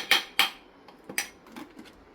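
A spoon clinks and scrapes against a bowl while melted cheese is mixed into avocado pesto, two sharp knocks followed by softer taps and scraping, close up with no speech.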